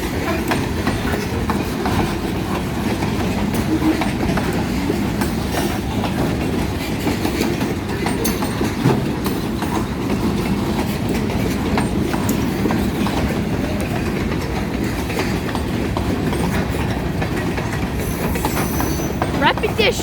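A Norfolk Southern freight train rolls past on the rails in a loud, steady stream of rumbling and clattering wheel noise, close by, lasting the whole stretch with faint squeals near the end.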